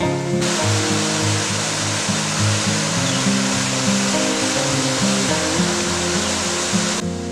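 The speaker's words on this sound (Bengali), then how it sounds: "আর ওই দূরেই দেখা যাচ্ছে আমাদের বহু কাঙ্ক্ষিত সেই পিটিডির ঝর্ণা" Pitidi waterfall in Purulia during the monsoon, its water running red with mud, gives a steady, loud, broadband rushing roar that fills the whole stretch, with low tonal music faintly underneath.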